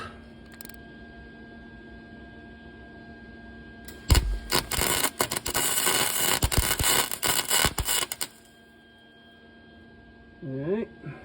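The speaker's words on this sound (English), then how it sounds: "We just kind of weld a nut. We'll build this up with some" A nut being welded onto a broken-off exhaust manifold bolt on a 2011 Ram with the 4.7L engine, heard as about four seconds of loud crackling, buzzing arc bursts that begin and end abruptly, framed by quieter stretches of workshop hum.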